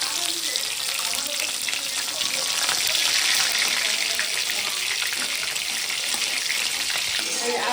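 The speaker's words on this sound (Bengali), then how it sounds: "ওই জন্য ফোড়ন দিয়েছি তেজপাতা," Bay leaf, dried chili and cumin sizzle in hot oil in a heated kadai, a steady, close, broadband hiss of frying that holds evenly throughout with no talk over it.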